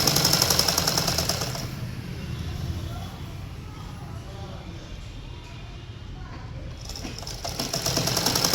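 A sewing machine runs steadily while stitching a seam joining two pieces of a skirt, its motor whir loud at the start and end and quieter through the middle stretch, with no talk over it.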